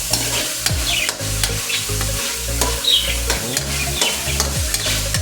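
Ground meat fries and sizzles in a pan with oyster sauce, stirred with repeated scraping strokes over a steady crackle, close and fairly loud with no talking.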